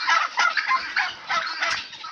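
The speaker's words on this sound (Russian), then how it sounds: "Вот племенной индюк." Breeding turkeys gobbling loudly and close, several rapid overlapping bursts of rattling calls with no talking.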